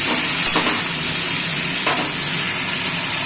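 Spinach and taro pieces frying in a pan, a loud, dense, continuous sizzle close up, broken by two brief stirring scrapes.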